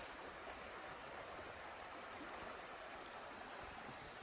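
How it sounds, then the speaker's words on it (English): Steady, faint rushing of the Etowah River flowing past a riverside kayak camp, an even broadband wash of water with no other sounds on top. "We're right on this river."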